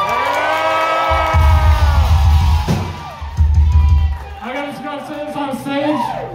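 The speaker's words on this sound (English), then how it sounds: "give them a fucking round of applause real quick" A concert crowd at a small band show cheers, whoops and yells loudly and close by, in bursts that rise and fall over several seconds.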